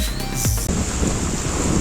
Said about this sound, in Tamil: இப்போ நாற்பத்தி ஆறு மணத்தியாலமாக பெய்து கொண்டிருக்குது இந்த மழை சரியான மழை